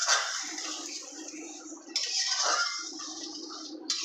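Water poured into a cooking pot while making a mustard egg and prawn malai curry, a steady hissing splash lasting a couple of seconds, then a second brief pour, close and moderately loud with no talk.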